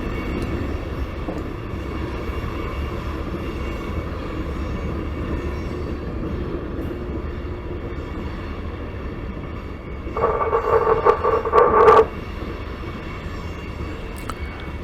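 A CSX freight train with green hopper cars and four locomotives rumbles steadily at a distance, with a brief, louder horn-like tone swelling near the end.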